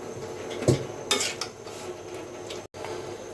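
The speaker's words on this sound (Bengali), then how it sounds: "ভালোভাবে নাড়াচাড়া করে দিচ্ছি" Metal spoon stirring bud dal with chicken giblets and liver in a cooking pot, giving a few scraping clinks against the pot with soft sizzling underneath, close and moderately quiet.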